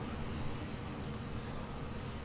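Steady airplane engine drone from a flight video game, a continuous dense roar with no change in pitch or loudness, heard alone without talk.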